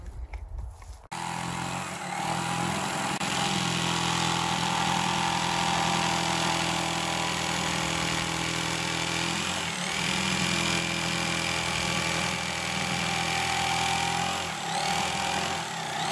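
A jigsaw cuts into a kitchen countertop to make the sink opening, a steady buzzing motor drone running continuously after a short quieter start, fairly close and with no talk over it.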